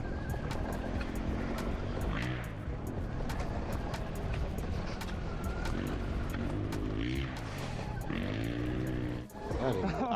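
A new motorbike engine held at full throttle, a steady droning whine that rises and falls slightly, with voices talking over it.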